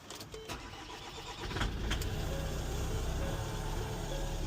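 A 2014 Ford Transit Custom van's engine cranks briefly with a few clicks and catches, settling into a steady close idle that hums on to the end.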